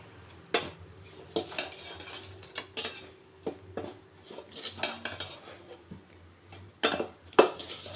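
A metal ladle stirs and scrapes hot ragi flour dough in a pot, giving irregular clanks and knocks against the vessel with soft rubbing between them, close and clear, with no one talking.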